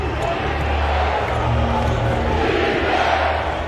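A packed basketball arena crowd roars steadily and loudly at a Nuggets home playoff game against the Clippers, a dense, unbroken wall of cheering with a commentator talking over it.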